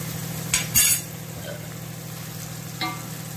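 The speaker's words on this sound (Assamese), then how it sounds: "ভালদৰে লৰাই মই ভাজি লৈছোঁ" Fish roe frying in oil with tomato in a pan, a steady low sizzle with a few sharp clinks and scrapes of a spoon stirring near the start and one more near the end.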